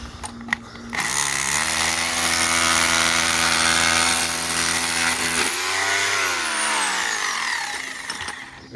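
Power drill, used here as a breaker at a waste water treatment plant, chipping out material; a loud, sustained mechanical roar of about four and a half seconds that then winds down, with no talk over it.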